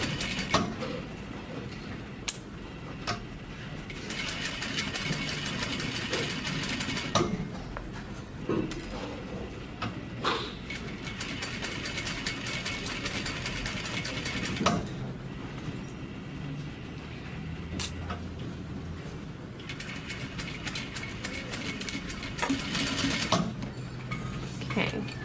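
A sewing machine stitching a Hong Kong seam finish runs in several slow, steady bursts of whirring mechanical chatter. Short quiet pauses and clicks separate the runs.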